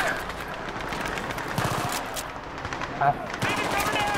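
Bursts of automatic gunfire from a gun in the video game Battlefield 3, loud and close, firing in rapid repeated volleys with a few separate shots, while someone talks over the shooting.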